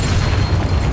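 A Bombarda spell blast in the Hogwarts Legacy video game, a loud, dense low-frequency boom filling the whole moment, close and heavy with rumbling texture, no voices.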